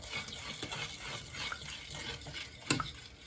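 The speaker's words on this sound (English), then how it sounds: "Keep stirring it." A spoon stirs dark rum sauce in a pot on the stove, giving faint, soft scraping and swishing strokes with a light clink near the end; quiet and close, with no talking.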